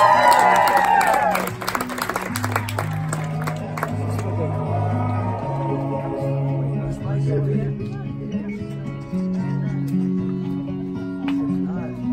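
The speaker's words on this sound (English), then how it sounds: "Give them both a big round of applause." Wedding guests at a mansion reception clap and cheer for the newlyweds as a first-dance song begins, with the applause strong at first and fading under the music.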